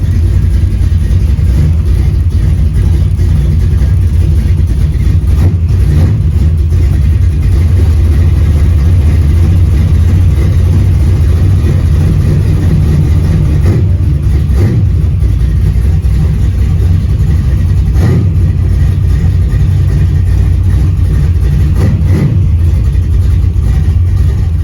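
A car engine idles with a steady, low rumble for the whole stretch while the car is moved. The hum is close and continuous, with occasional faint knocks and no talking.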